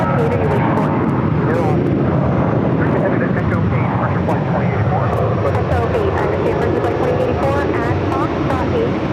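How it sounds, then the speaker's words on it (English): A Frontier Airlines Airbus A321neo in Flint the Wood Stork livery, arriving from Denver and passing close by at Phoenix airport, a loud, sustained jet roar with shifting engine tones and a person talking over it. "The Frontier flight that just passed in front of us, Flint the Wood Stork livery, coming in from Denver, Colorado, in an A321neo"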